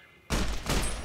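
A loud gunshot burst from Fallout: New Vegas erupts after a quiet moment, a sustained blast of fire with a ringing tail, no talking over it.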